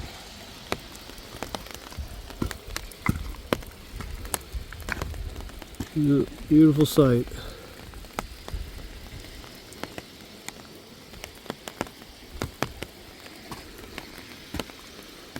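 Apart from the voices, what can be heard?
heavy rain falling at a ranch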